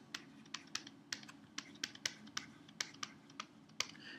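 Typing Python code on a computer keyboard: a steady run of crisp, close key clicks at an uneven rhythm, about a dozen sharp taps over a low background hum, with no voices.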